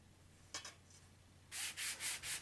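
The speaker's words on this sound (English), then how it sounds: "So I'm hand sanding here a little bit just to sort of flatten things out a little bit" Several hand-sanding strokes on a CNC3018 router frame: a few faint scrapes, then four close, steady rubbing passes in a quiet room.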